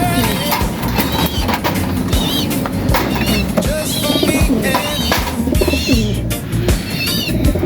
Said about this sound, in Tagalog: Ito yung mga ibon natin.